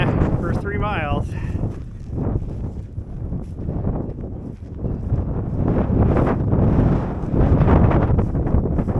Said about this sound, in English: This wind is just nuts today. It is crazy.